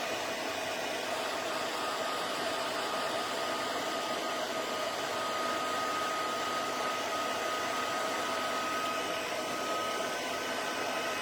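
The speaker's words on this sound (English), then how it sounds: "And then we'll just hit that with the heat tool." A heat tool melts embossing powder on a handmade card, giving a loud, steady blowing whoosh with a constant motor whine that runs unbroken from start to finish, with no talk over it.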